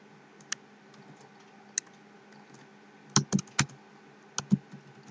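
Someone types code on a computer keyboard, a few sparse key clicks early and then a quick cluster of louder taps, close-up in a quiet room with no speech.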